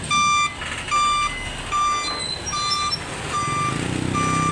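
Reversing beeps from a backing delivery truck, a steady series of loud, evenly spaced tones repeating about once per second, over a constant engine rumble and traffic noise.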